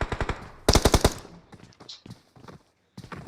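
Rapid automatic gunfire from a PUBG Mobile firefight, two loud bursts of evenly spaced shots followed by scattered softer shots and a final short burst, heard up close with no talking.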